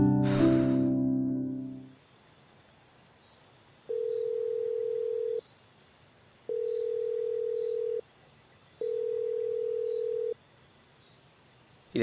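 Unanswered phone call ringing back through the earpiece: three evenly spaced, steady ring tones after a brief voice and a pause, clear against near silence.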